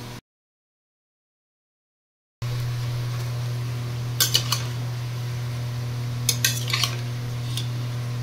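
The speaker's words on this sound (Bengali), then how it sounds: "এই যে মায়ের জন্য ভেন্ডি ভাজা হচ্ছে" Okra frying in a pan in a home kitchen: after a short silent gap, a steady sizzle sits over a low continuous hum, broken by a few sharp utensil clinks and scrapes.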